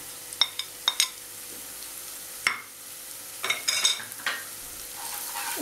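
Spices with turmeric and chili powder frying on medium heat in a pan for a Bengali matar paneer curry, a low steady sizzle broken by several sharp scraping clacks of a spoon stirring, with no voices.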